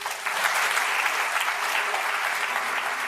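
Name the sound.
studio audience applause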